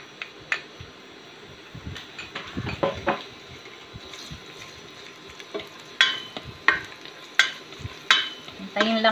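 Garlic fries in oil in a pan for tuna carbonara: a soft, close sizzle is broken by sharp metallic clinks and scrapes of a utensil against the pan, which grow more frequent toward the end.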